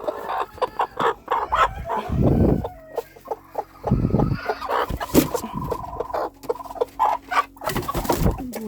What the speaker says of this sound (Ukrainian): Тут чорні курки, йдіть сюди.